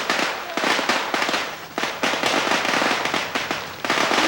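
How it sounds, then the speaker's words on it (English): Rapid bursts of fireworks crackle and pop in quick succession, loud and close, with a few brief pauses between volleys. "First fireworks."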